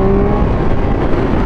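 A car engine roars loud and close as it accelerates in second gear, giving a brief dense growl with a rising tone.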